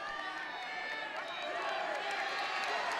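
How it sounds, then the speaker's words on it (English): Crowd at Gill Coliseum in Corvallis at a college wrestling dual meet, a broad sustained roar of cheering and shouts that swells toward the end. "Crowd here in Corvallis at Gill Coliseum getting behind him"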